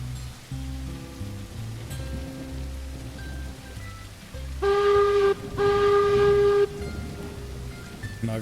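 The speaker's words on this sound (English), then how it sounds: "I think I'm going to go ahead and just get this train going here." A loaded freight train in the Railroads Online video game starts moving with a low rumbling engine and mechanical clatter, then two loud sustained horn blasts ring out.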